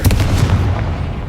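A single loud, close fiery blast from the Confringo spell in Hogwarts Legacy bursts out at once, then decays into a rumbling tail over about a second.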